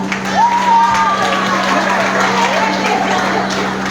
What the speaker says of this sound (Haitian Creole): nous applaudissons M. Alex pour moi, s'il vous plaît